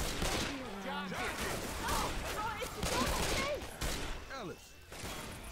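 Gunfire in Left 4 Dead 2: scattered bursts of shots in a chaotic fight, heard under excited shouting and talking from several players.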